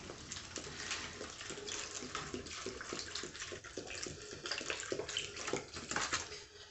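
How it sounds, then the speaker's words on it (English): Beef broth is poured into the bottom of a roasting pan under a standing rib roast, a continuous soft splashing pour with small clinks, fairly faint and close. "I'm going to pour some of this beef broth at the bottom to keep it from not drying out while it's cooking"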